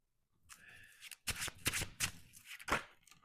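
Tarot cards shuffled by hand in bursts of crisp riffling and slapping, close and fairly loud, with a softer start before several sharp strokes.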